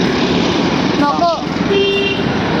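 Heavy road traffic near India Gate on Republic Day, a constant roar of many passing vehicles with a couple of short horn toots, while a voice talks over it.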